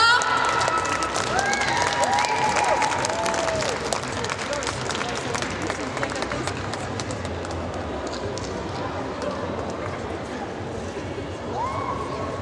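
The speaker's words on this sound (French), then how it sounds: "On les applaudit encore très très fort." An audience at a cosplay contest show claps steadily in a loud, dense wash of applause, with faint crowd noise mixed in.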